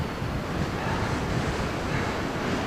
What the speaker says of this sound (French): On entend le vent qui souffle.